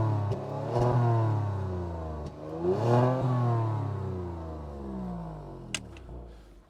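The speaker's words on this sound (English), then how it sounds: "Want to rev it again just to see if we can get it to pop again?" 2024 Genesis G70 V6 engine revved hard twice in close succession, each blip climbing sharply then falling away, loud and close, followed by a small pop and settling idle.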